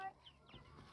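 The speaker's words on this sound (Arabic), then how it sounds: "طب يا حسن الفراخ عايز تتعشى" Backyard chickens cluck at feeding time: a few quiet, close clucks and soft fowl calls over faint background noise in a brief moment.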